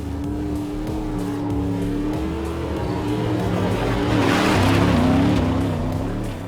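A Ford Raptor truck on HRD mid-travel suspension driving fast off-road, its engine a loud steady roar that climbs and swells toward the end with some rushing tire and wind noise.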